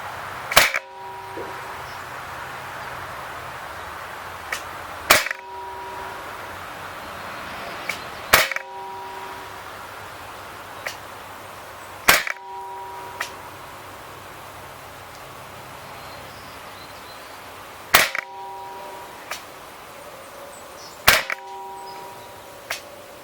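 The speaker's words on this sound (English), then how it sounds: "We're going to shoot 8 rounds into this target and see what kind of accuracy we can get from 20 feet out in a semi-rested position" A Gamo P-25 CO2 pellet pistol fires about eight crisp pops at a target twenty feet away, spaced a few seconds apart, each sharp and close with faint metallic clicks between shots and a quiet background.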